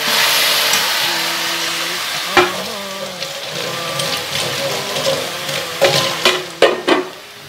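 Prawns stirred into a thick frying masala in a pan give a loud, steady sizzle with scattered spoon scrapes and clinks against the metal, all close up.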